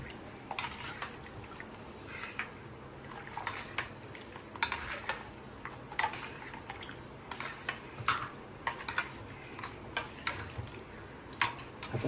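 Spoon stirring kokum solkadhi in a bowl, with faint, repeated small clinks and ticks of metal on the bowl and light liquid swishing, quiet and close throughout.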